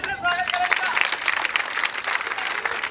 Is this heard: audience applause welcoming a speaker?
yes